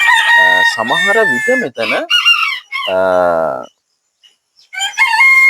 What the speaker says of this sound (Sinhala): මෙතන කුකුළු ඉන්නවා.